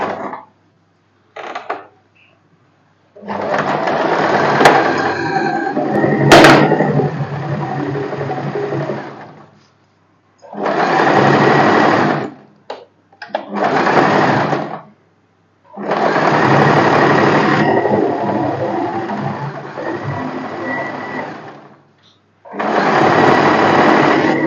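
A sewing machine stitches the seams of a boatneck blouse in several loud, close bursts of whirring run, each lasting a few seconds and separated by short pauses, with a faint metallic clink partway through.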